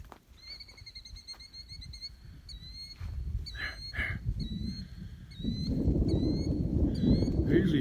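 Thin, high-pitched snipe calls repeat in quick chirping bursts outdoors on a cold day, with low rumbling noise building underneath toward the end.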